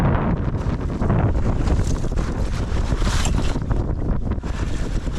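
Strong, gusty wind roars across a duck hunting spot on open water where decoys float, with heavy buffeting on the microphone and a steady low rush that never lets up.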